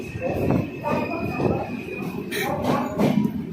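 A fast passenger train running on the Rajahmundry–Hyderabad line near Eluru station gives a steady rumbling roar with rattling wagons, close and continuous, with faint voices mixed in.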